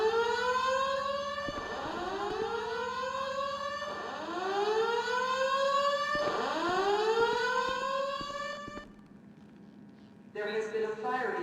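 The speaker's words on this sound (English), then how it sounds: "a quick walkthrough of Mission Row Police Station with the alarm activated so you guys can get an idea of what it sounds like" A rising-and-falling wail from a fire alarm siren in the GTA 5 Inferno Collection mod, sounding inside Mission Row Police Station, repeating in about four loud sweeps before cutting to a short tone burst.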